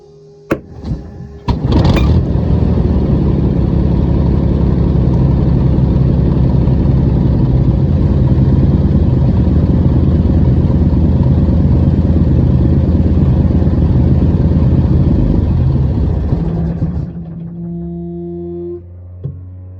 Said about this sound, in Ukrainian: Даємо тиск від 3 атмосфер по е, оливі в двигуну і запускаємося повітрям на, на половину подачі пального